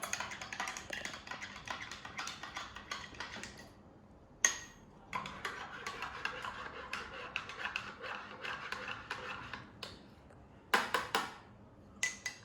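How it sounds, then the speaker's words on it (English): A spoon stirs an evening snack in a bowl, with many quick faint clinks and scrapes in irregular bursts and brief pauses, close and quiet. "we take a spoon and mix it"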